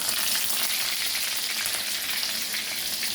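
Chopped green chillies and vegetables sizzle steadily in hot oil in a pan, a dense, continuous frying hiss throughout with no talking.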